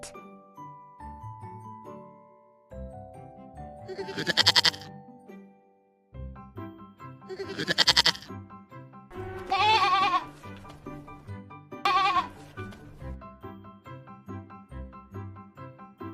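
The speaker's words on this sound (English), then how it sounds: "Goat." Several loud goat bleats, four separate calls spaced a few seconds apart, close up, over a soft tinkling musical background.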